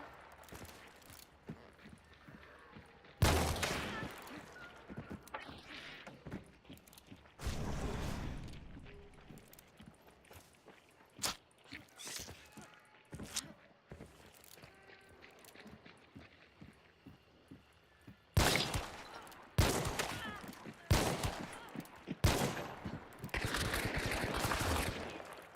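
Bursts of video game gunfire arrive as several loud volleys with quieter stretches of faint clatter and scraping between them, sounding fairly close.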